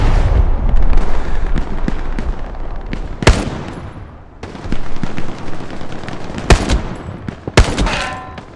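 Gunfire in Hell Let Loose, a large 50-versus-50 World War II battle: loud nearby rifle cracks and distant rattling bursts keep coming over a dense battlefield din, with several sharp isolated shots standing out.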